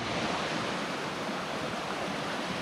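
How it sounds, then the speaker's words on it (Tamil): Stream water flowing along the Nagalapuram Falls trail near Chennai: a continuous dense rushing wash, loud and close, with a touch of wind buffeting and no speech. "இந்த ஜேர்னி ஃபுல்லாக பார்த்தீங்கன்னா இந்த மாதிரி தண்ணி சவுண்ட் வந்து கேட்டே இருக்கும்"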